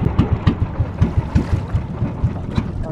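A fishing boat's engine runs out at sea on a skipjack tuna trip, a close, rhythmic chugging of evenly spaced low thumps under wind noise, with no voices.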